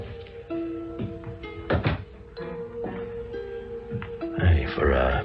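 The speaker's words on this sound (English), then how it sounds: "I pushed open the doors." A radio-drama sound effect of doors being pushed open, with wooden knocks, creaks and thumps, the last closing thud heavier and closer.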